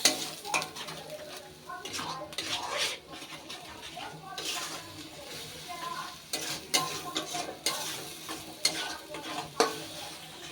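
Ground cumin and coriander being stirred into a spice paste in a pan for chicken kosha, with scraping spoon strokes, pan clatter and a faint sizzle underneath, fairly quiet and close.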